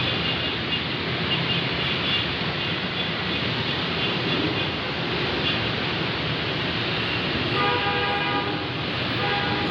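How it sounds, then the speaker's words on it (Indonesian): An MRT train passes by at Lebak Bulus in Jakarta, a loud, continuous rushing rail roar with metallic whine and tonal squeal rising near the end, with no talk over it. "Nah, ini ada MRT lewat."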